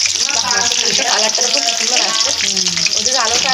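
Fish frying in hot oil gives a loud, steady sizzle and crackle, heard up close alongside background voices chatting.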